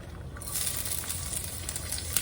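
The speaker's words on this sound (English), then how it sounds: "That's the sound of a nice, well-heated oil in a pan." Bright, crackling sizzle of well-heated oil in a hot pan with mushroom and onion, rising after a quiet start and holding steady, close by with a few sharper pops.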